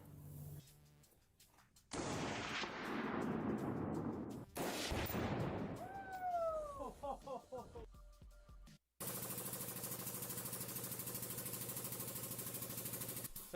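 Rifle shots at 2 pounds of tannerite in a microwave: two loud, sharp blasts with ringing decay, then a long stretch of steady, dense roaring noise.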